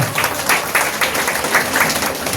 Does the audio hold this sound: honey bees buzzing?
no